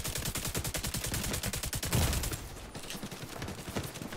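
A light machine gun in The Division 2 firing a long sustained burst of fast, evenly spaced shots, loud and close, then trailing into scattered distant gunfire.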